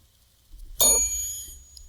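A single bell rings out with a bright, sustained metallic tone that decays over about a second, after a brief rustle, with no talk over it.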